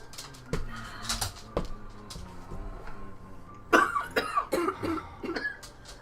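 Several harsh coughs and throat clearings in quick succession, close by, with some clucking bird-like sounds mixed in.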